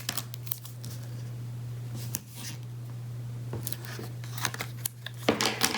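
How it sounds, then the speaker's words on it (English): Scissors snip through white cardstock for a Christmas pocket tag card, giving a handful of crisp, close cuts spread across a quiet room with a low steady hum underneath. "So I cut the white cardstock to be a little larger than"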